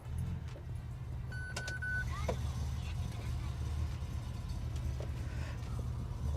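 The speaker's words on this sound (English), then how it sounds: "Nissan Skyline Hakosuka GTX GTR replica for a quick test drive and feel how she drives on the road" Interior of a Nissan Skyline Hakosuka GTR replica on a road test drive: a steady low engine and road rumble runs throughout, with a few brief clicks and rattles from inside the cabin.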